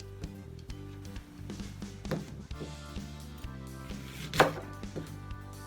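A knife slices an Asian pear in half on a cutting board, giving close, crisp chopping knocks with a sharper thud near the end and no talking.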